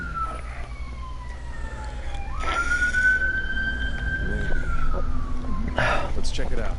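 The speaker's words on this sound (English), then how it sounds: "I don't know if you guys hear those sirens, by the way." Outdoor sirens wail from a distance with slow rising and falling tones, steady and moderately loud, while a voice speaks briefly over them.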